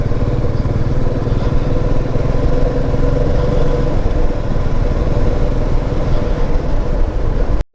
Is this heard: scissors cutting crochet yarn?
no